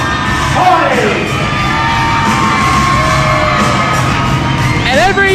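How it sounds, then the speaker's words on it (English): Dense, loud screaming and cheering from a wrestling crowd at a 2006 TNA campus show, with high-pitched shrieks from young women running steadily throughout and rising whoops near the end. "every young lady in Palmyra, Virginia screams her head off for the charismatic enigma"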